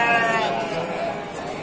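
A sheep bleats up close at a livestock market, one wavering, drawn-out call lasting over a second against the low murmur of the market.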